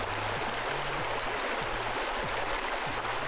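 Steady broadband spray of water jetting out continuously in Pool Cleaning Simulator, loud and unbroken, with a faint low rhythmic stepping hum underneath.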